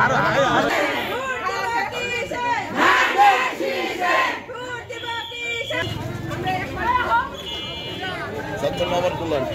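A crowd at a BNP campaign rally for a former MP in Bakshiganj chants political slogans in loud, rhythmic unison, voices rising and falling in bursts over a background of crowd noise.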